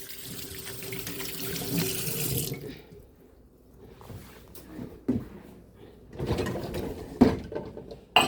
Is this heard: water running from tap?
yes